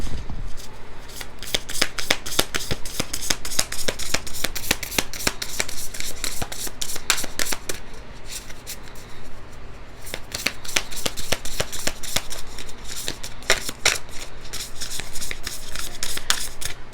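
A deck of tarot cards being shuffled by hand in a dense run of quick riffling flicks and snaps, close and fairly loud, continuing for the whole stretch with short pauses.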